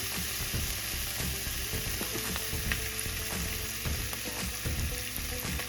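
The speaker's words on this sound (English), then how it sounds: "And I'm just gonna mix that up." Plant-based chicken frying in an oiled skillet as it gets mixed, a steady close sizzle with spatula scrapes and light knocks against the pan throughout.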